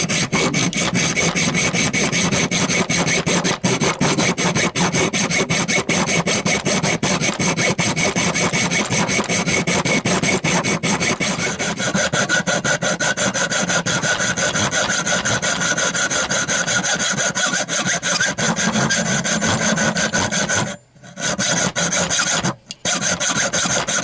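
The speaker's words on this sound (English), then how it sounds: "Okay, I'm cutting the excess off." Sawing off excess material during a knife build, a loud, rapid rasping back-and-forth stroke that runs continuously and close up, then breaks off briefly in two short pauses near the end.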